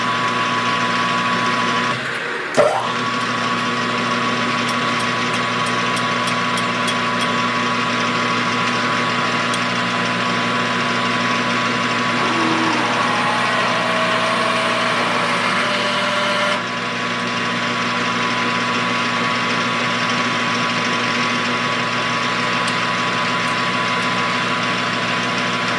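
A small model steam engine runs steadily at 600 RPM, a continuous mechanical hum with a brief knock near the start and faint shifts midway, no voices.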